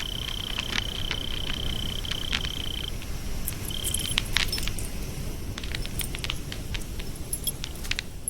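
Car keys jangling in a hand for several seconds, light metallic clinks and rattles scattered over a steady outdoor night ambience with chirping insects or frogs.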